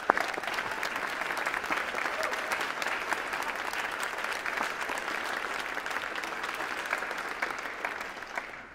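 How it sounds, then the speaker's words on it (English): Sustained applause from a graduation ceremony audience honoring their professors, a dense steady roar of many hands clapping for the full stretch at even loudness before tapering slightly at the end. "can we get a huge round of applause for our professors?"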